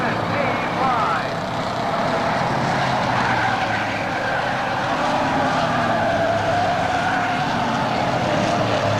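Race cars at Claremont Speedway's weekly racing drone steadily around the oval in a loud, continuous engine roar with rising and falling pitch, and an announcer talks over the noise.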